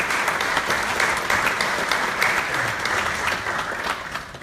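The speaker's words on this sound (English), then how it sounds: "So a very big round of applause for all of you out there." An audience at a literature festival opening ceremony claps steadily throughout, a dense, even wash of many hands with no pauses.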